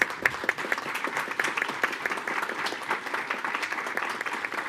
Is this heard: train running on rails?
no